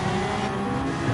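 A GR1-class race car engine in Gran Turismo 7 drones steadily on a sighting lap, a constant loud mechanical hum with no talk over it.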